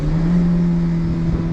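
A Hyundai Venue's 1.2-litre naturally aspirated Kappa petrol engine, heard with the windows down, holds a loud, steady, even drone throughout with no change in pitch.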